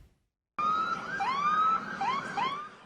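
Wailing siren of emergency vehicles near a school after a shooting in Nashville, a steady rising and falling wail with a second siren overlapping, loud and close, starting abruptly after a moment of quiet, with no talk.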